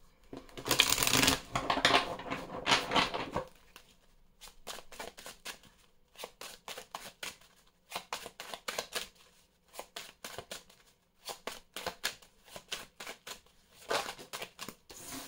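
Oracle des miroirs cards being shuffled, a loud riffling burst at first, then quieter repeated bursts of flicking and slapping card sounds, close up, with no talk.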